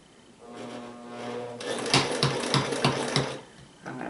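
A sewing machine stitching curtain fabric, a quiet motor hum rising into a rapid rhythmic clatter of the needle for a few seconds, then slowing and stopping.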